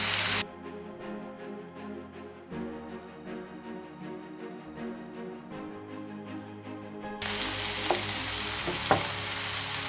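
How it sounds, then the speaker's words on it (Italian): Pork belly browns in a hot pan, a steady crackling sizzle running the whole time with occasional stirring knocks, then a louder, hissier burst of frying toward the end. "Dopo 5 minuti di rosolatura andiamo a girare la nostra carne."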